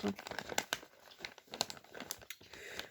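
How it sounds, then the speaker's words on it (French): Plastic crinkling and rustling close by in irregular bursts, quiet overall, with no speech. "Je suis désolée pour le bruit de plastique."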